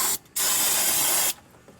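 Brake cleaner is sprayed onto a spot on the steering and tie-rod area of a 2008 Nissan Rogue. It comes as one loud, close hiss lasting about a second, after a very short opening burst.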